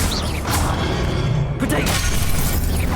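A Confringo blasting spell explodes in the Hogwarts Legacy video game, a loud crashing, shattering burst amid dense rumbling combat noise that stays heavy throughout.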